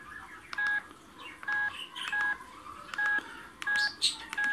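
Keypad tones from a Digma Linx A170 mobile phone as a number is dialed, seven short, evenly spaced beeps sounding close and clear, with quiet room noise between them.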